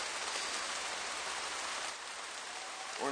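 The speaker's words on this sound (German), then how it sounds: "jetzt hat mich ein richtiger Regenguss überrascht" Heavy rain pours steadily onto a shelter, a dense, even hiss of drops drumming on the surface, close and uninterrupted, with no voices.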